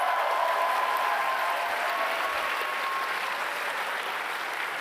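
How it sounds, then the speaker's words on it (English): An audience at a Harvard evening event gives a sustained round of applause, a dense, even wash of clapping that holds steady and tapers slightly toward the end. "So let's give them a round of applause."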